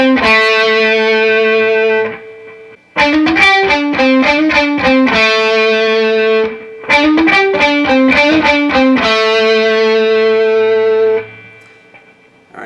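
Distorted electric guitar plays a solo, loud and close: sustained held notes broken by quick bursts of fast picked runs and bends, with two short gaps between phrases and no talking.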